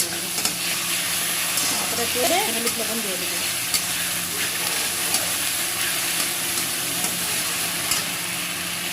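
Ground ginger, cumin, chili, coriander and onion paste sizzling in oil in a pan for hilsa fish curry, a constant hiss of frying with occasional scrapes of stirring and a brief murmur of voice.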